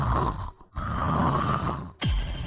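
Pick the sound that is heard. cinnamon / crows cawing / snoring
snoring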